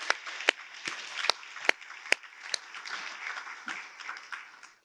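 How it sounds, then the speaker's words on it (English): Scattered, moderate clapping at a governor's awards ceremony, honoring the families of award recipients: distinct individual claps ring out over a thin background of applause, with no voices. "We also want to give a big round of applause to their families too"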